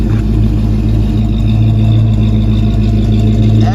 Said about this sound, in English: It's got Flowmaster exhaust. It's got an H-pipe, so it's really throaty.